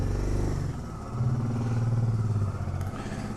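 A Honda Transalp motorcycle engine labours off-road on a rough mountain track in Morocco, a loud, close, steady low drone that dips and then rises again as the clutch is worked.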